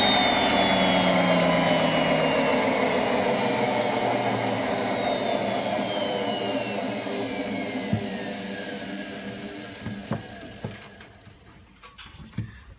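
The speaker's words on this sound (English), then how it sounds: "If it does, let's hear if the motor goes." An Indesit IWC6125 washing machine's Welling motor, hotwired and run outside the machine, whines loudly with a falling pitch as it spins down, trailing off into quieter clicks and knocks near the end.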